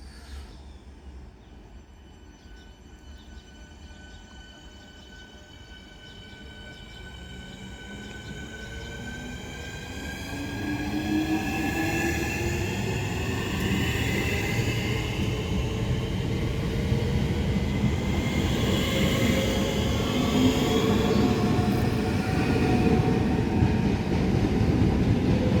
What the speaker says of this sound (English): the 1030 Southeastern service from Tunbridge Wells to London Charing Cross